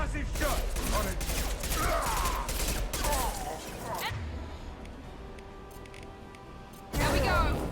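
Combat gunfire in Mass Effect 2, dense bursts of rapid shots and crashing impacts loud and continuous, a brief quieter lull with mechanical hum, then another heavy burst; voices speak over the fighting.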